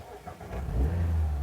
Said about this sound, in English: savour the burbling exhaust melody